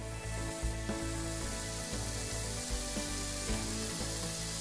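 Vegetables tossed into meat already sizzling in a Tefal frying pan, giving a loud, dense, continuous sizzle with irregular stirring and scraping bumps, and no voices.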